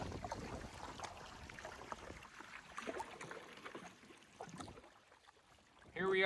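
A canoe is paddled across calm, glassy lake water in Algonquin Provincial Park, giving soft, irregular strokes and quiet water swishes close by, with light wind in the background.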